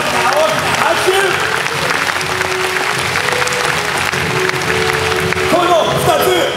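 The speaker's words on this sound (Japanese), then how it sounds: "大きな大きな拍手。" Applause from a large crowd at a centennial celebration, a steady dense clapping wash throughout, loud and close, with voices and crowd noise mixed in.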